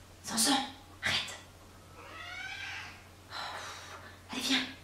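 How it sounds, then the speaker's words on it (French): A house cat grumbles and meows in a run of short, close, breathy cries with pauses between them, fairly quiet in a calm indoor room. "Décidément, ce chat est tout le temps en train de râler."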